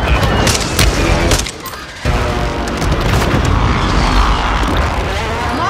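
Enemy gunfire and booming impacts in Call of Duty Warzone on the Vondel map, loud and dense bursts with a brief lull, heard amid chaotic battle noise.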